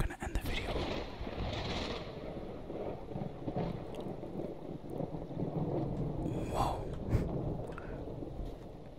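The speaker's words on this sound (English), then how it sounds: "I didn't know it was thunderstorm." A thunderstorm rolls through a Minecraft world as a low, continuous rumble of rain and distant thunder, faint overall, with a few soft breaths and a brief whispered reaction near the end.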